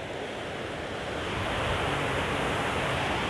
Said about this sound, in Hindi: बहाव भी आप देख सकते हैं कि पानी का कितना तेज़ है